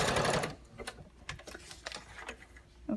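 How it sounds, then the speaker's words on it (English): A sewing machine runs a zigzag stitch with pink thread along a line on paper for a Valentine's banner: a dense, close burst of whirring stitching, then a run of lighter, scattered mechanical clicks and ticks. "I set my machine to just a simple zigzag stitch, and I put in some pink thread and then just sewed it right over that line."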